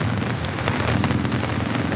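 Heavy rain pours down steadily and loudly during a storm, a dense, hissing wash that drums on surfaces close by and never lets up. No voices are heard.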